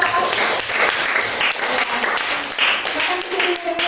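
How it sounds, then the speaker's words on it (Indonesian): Dense applause from a group in a classroom for a student group, filling the whole clip, steady and loud, with voices mixed in underneath. "tepuk tangan untuk kelompok 2"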